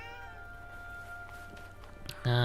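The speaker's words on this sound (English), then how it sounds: "A cat." A cat in Forspoken gives a single sharp meow near the end, loud and close, after a quiet stretch of low ambient music with faint tones.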